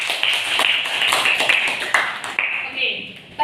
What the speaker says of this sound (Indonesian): Kita beri tepuk tangan untuk teman-teman yang sudah menjawab ya.